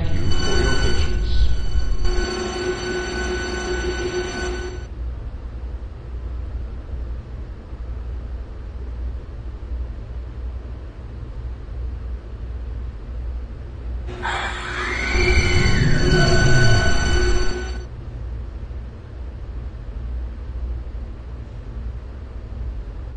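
A subway train idles at a station with a steady rumble and hiss while tonal chimes or announcements sound twice, once at the start and again midway, loud and close throughout.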